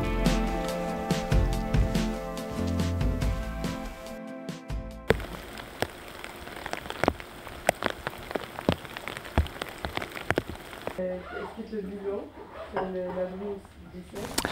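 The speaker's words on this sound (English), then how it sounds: "there's quite a bit of rain coming down upon us" Rain falls steadily at night on hikers backpacking the Saguenay Fjord in Québec, a dense patter with sharp drop ticks on gear, preceded by a musical passage and followed by a person talking.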